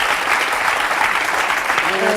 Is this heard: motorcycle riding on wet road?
no